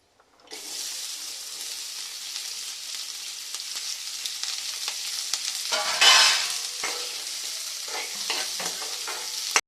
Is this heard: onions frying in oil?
yes